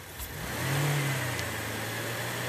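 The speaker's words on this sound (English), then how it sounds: "I'm going to raise the engine RPMs a bit." A gasoline direct-injection car engine being diagnosed for injector misfires revs up steadily from idle, its rising hum holding at a higher pitch in a continuous, fairly loud drone with no talking.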